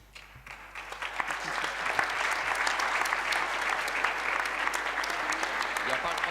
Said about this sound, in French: Il n'y a pas le droit d'applaudir.